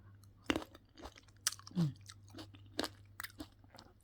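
Crunchy food, a spicy sour dish with dried shrimp, is chewed close to the mic with sharp irregular crunches and bites, and no talk.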